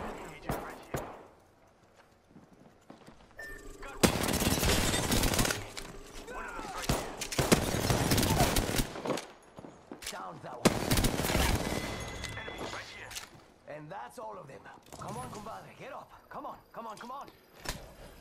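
Gunfire from a shooter in the battle royale game Apex Legends, arriving in loud dense bursts separated by quieter stretches, with scattered clicks and game effects, and a player's voice talking in between.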